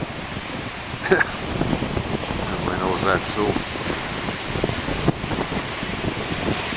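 Ocean waves, including very large ones, roll and break while a strong west wind blows, a broad rushing wash with buffeting wind noise on the microphone, and someone talks over it throughout.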